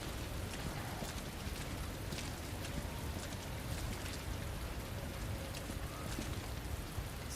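Rain falling in the Resident Evil 2 video game, a dense, constant hiss of drops with scattered sharper patters, steady and unbroken throughout.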